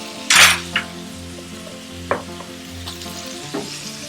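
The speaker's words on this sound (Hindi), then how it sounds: "और इसको अब हम कर देंगे फिर से फ्राई।" Minced meat frying with onion, cumin and ginger-garlic paste, a low sizzle under a few sharp spoon scrapes and clinks against the pan, close by, no talk.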